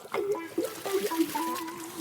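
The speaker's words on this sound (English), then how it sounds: "Then simply rinse." Water rinses over nylon webbing on a bag, giving a close, steady trickling and splashing with small irregular spurts throughout.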